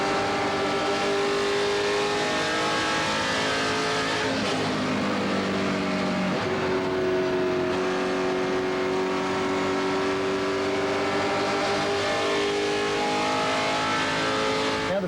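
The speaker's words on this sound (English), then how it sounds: "Now, Kevin, we got to put a camera into his car during practice, and we went full speed" Late model modified race car at full speed from onboard, a steady loud engine roar with rising and falling pitch as it shifts and revs, continuous with no talk.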